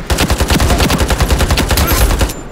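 Rapid, loud automatic gunfire from a new weapon in the shooter game Ironsight, a steady burst of evenly spaced shots lasting about two seconds before cutting off.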